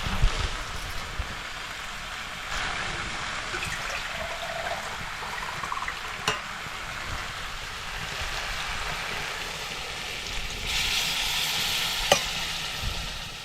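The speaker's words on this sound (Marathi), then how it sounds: "अशी व्यवस्थित परतवून घेतले की आता आपल्याला ह्यामध्ये ना पाणी ओतायचंय" Spiced birda and potato vegetable curry stir-fried in a kadhai in a Konkan home kitchen: a steady sizzle with scraping stirs and occasional clinks, fairly close and continuous, with no talking.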